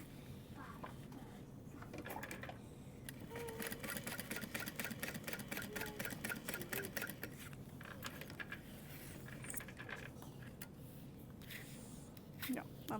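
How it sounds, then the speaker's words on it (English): A sewing machine stitches a strap accent piece onto the top of an Emma backpack in steady, rapid runs with brief pauses, while people talk over it. "I'm gonna sew the top"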